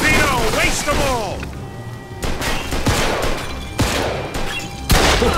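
Gunfire from a Mafia II shootout crackles in several loud, sharp bursts with impacts, layered over shouting voices and game background noise.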